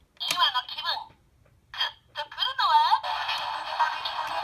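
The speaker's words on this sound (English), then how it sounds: "This standby noise will go on until you finally twist it." Goodstriker electronic toy from Lupinranger vs Patranger giving its standby noise: tinny chirping synthesized voice clips and jingles through a small speaker, with short pauses, then a steady looping electronic tone, close up.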